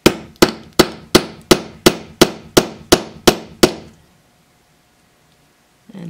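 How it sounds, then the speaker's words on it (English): Eleven sharp, evenly spaced hammer strikes on a rivet set with a rivet setting tool, ringing clear and close while fitting a bag's lining and shoulder straps, then a few seconds of silence. "And then we're hammering."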